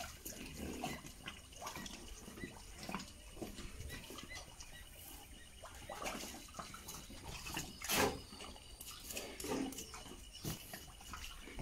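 Pigs drink clean water in a pigsty, with faint, irregular slurping, dripping and splashing patter, quiet and close, continuing throughout.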